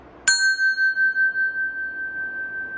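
A stationary metal bell is struck once with a mallet, giving a sharp, bright strike followed by a pure, sustained ringing tone that pulses gently as it slowly fades, heard close and alone.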